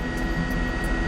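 A helicopter hovers overhead during a police chase, a steady, droning rotor and engine roar heard from a distance for about a second, with no voices.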